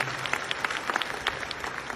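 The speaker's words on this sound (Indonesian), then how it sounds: "Tepuk tangan dulu yang paling meriah buat Tuhan." A church congregation claps in a short burst of applause. The individual claps are close and distinct over a brief couple of seconds.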